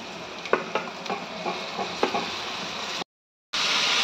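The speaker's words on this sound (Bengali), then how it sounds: "সয়াবিনটা দিয়ে আমি ভালো করে একটু কষিয়ে নেব।" Marinated soybean chunks frying and being stirred in oily spice paste for a Bengali soybean biryani: a steady close sizzle with scraping stir strokes, broken by a brief gap, with no talk.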